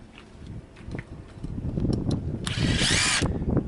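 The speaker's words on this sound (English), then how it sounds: "there's 4 screws on the back side of this. So I'll just take them out." A power drill backs screws out of a wooden gate latch, several short whirring bursts building to a louder, sustained high whine near the end, close and with no talking.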